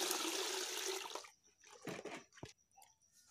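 Water being stirred into a thick distemper paint mix, giving a steady wet swishing for about a second, then a few separate sloshing and dripping sounds close by.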